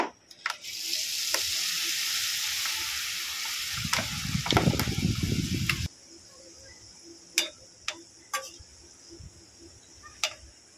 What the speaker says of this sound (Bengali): কড়াই তেল বসিয়ে দিয়েছি বন্ধুরা। চলুন তাহলে ঝুড়ি ভাজাগুলো আমি ভেজে নেব।